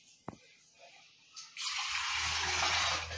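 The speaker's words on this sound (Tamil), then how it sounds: "நல்லா கழுவிட்டு ஊற வச்சுக்கிறேன்." A tap runs while rice is washed for soft appam batter, starting with a few small knocks and clatters, then a steady close gush of running water for the rest of the clip.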